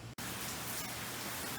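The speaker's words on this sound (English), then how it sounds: "It's raining pretty hard" Heavy rain falls steadily outdoors, a dense, continuous hiss of drops on surfaces that fills the whole stretch after a very brief silent gap at the start.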